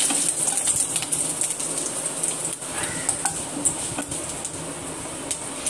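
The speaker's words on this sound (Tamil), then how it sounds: "அப்புறம் கருவேப்பிலை நல்லா பொரியட்டும்." Curry leaves, cumin and dried red chillies fry in hot oil for carrot rice, giving a steady, dense sizzle and crackle with brief sharper pops throughout, close and fairly loud, with no talking.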